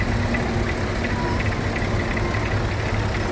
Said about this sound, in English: It's coming round now. Fordson Major there.